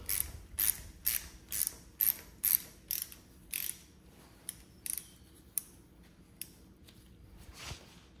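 Bolt being unscrewed from the galled threads of a Takeuchi TB53FR dozer blade, a series of about a dozen sharp ratcheting clicks in a steady rhythm, close and crisp, slowing and thinning toward the end.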